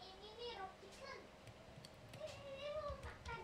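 A Minecraft cat meows several times in short wavering calls, faint and mixed with a child's chatter and light clicks of play.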